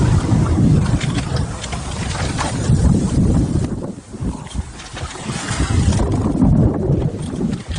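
A classic Peter Duck ketch sails on a broad reach at about 6.1 knots, with loud rushing water and heavy wind buffeting the microphone continuously, with no talk.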